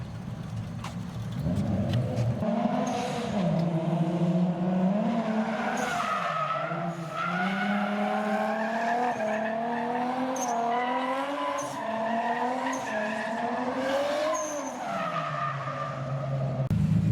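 A Lexus SC400 drifts on a street course with its tires screeching in long, wavering squeals over a straining engine, loud and continuous for the whole run.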